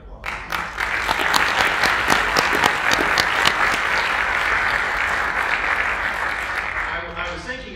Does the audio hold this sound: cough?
no